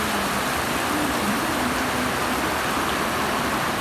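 Heavy rain from Typhoon Mangkhut pours down in a dense, constant roar, with no break in the downpour.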